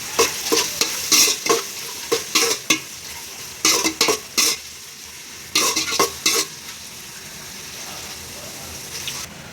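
Onions salted and sautéed in a pan for vegetable biryani hiss steadily, with repeated sharp scraping strokes of a spoon stirring them close up, then the sizzle continues alone.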